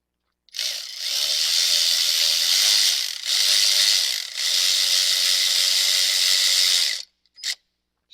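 Hand ratchet snugging a bolt on a 2014 Chevy 1500 during a vacuum pump delete, a fast, close clicking buzz in three long runs with short pauses, then a brief final burst.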